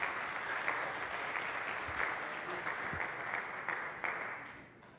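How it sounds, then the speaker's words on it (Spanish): A church congregation claps for the Lord, an even, sustained wash of many hands heard from a moderate distance, with a few scattered voices underneath. "Aplaudamos al Señor"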